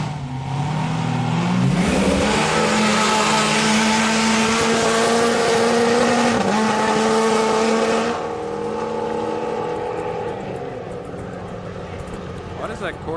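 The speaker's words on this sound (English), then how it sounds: "Why does that Corvette sound like that?" A Corvette at a test track revving hard, its engine note climbing steeply and holding at a loud, high-pitched whine before dropping off, with a voice talking underneath.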